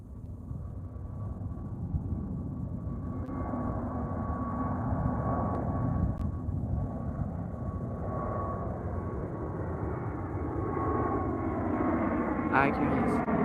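A Spirit Airlines Airbus A321neo drones as a broad, steady roar with a faint sustained whine, heard at a distance throughout, while a person talks over it.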